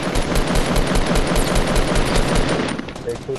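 Rapid automatic gunfire in the video game Fortnite, a dense run of close, loud shots that continues almost without a break and eases off near the end, while a voice talks over it.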